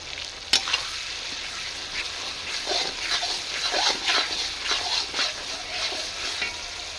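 Onions sizzling and frying in a pan for a country-chicken curry, a steady broadband hiss with scattered crackles and a sharp clatter near the start as they are stirred, fairly close, no talking.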